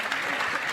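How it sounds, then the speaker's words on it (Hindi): A brief, dense burst of loud crowd applause, many hands clapping at once with no pauses. "एक बार जोरदार क्लैपिंग हो जाए इनके लिए"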